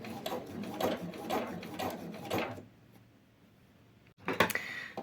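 A sewing machine runs in quick rhythmic bursts while stitching a tubular t-shirt seam from the inside, then goes quiet before a short final burst of stitching.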